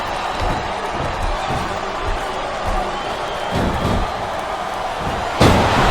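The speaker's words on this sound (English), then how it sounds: "It sounds like this capacity crowd has something on their minds, Taz." Arena crowd noise from the WWE Smackdown vs RAW 2007 wrestling video game, a steady roar of a capacity audience with scattered cheers and a sharp slam near the end.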